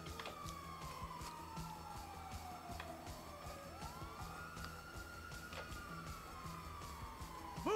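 A wailing emergency siren from an ambulance in Grand Theft Auto V sweeps slowly up and down and continues steadily throughout, heard against a busy game soundscape that includes traffic noise and sharp clicks.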